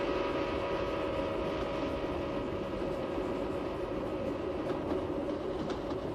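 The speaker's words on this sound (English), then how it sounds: "if you're standing alongside the track when the train passes, you hear that familiar shift in pitch" A train rumbles past steadily with a broad, continuous roar and faint rail clatter, holding loud throughout with no talking.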